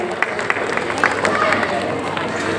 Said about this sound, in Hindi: टीचर से दरख्वास्त है, तालियां बजाते रहें।